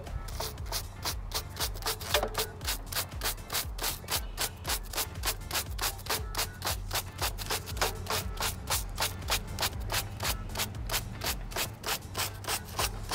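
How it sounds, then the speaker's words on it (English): A stiff-bristled brush scrubs a foam-covered bicycle cassette and rear derailleur in fast, even back-and-forth strokes, a close, continuous rhythmic rasping with no talk. "we're gonna go ahead and use our harder bristle brush and we're gonna go ahead and start scrubbing the cassette and the derailleur"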